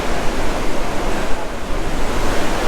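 Ocean surf breaking and washing in steadily at Silver Strand Beach on a day of low waves, a continuous close, loud roar of rushing water with some wind noise and no talking.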